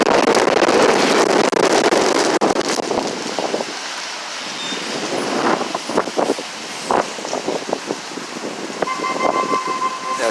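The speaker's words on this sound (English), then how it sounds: "especially when there's wind blowing like that" Strong storm wind gusting in Boston, broad roaring rush that is heavy at first, then eases into gustier bursts with scattered knocks and rattles, no voices.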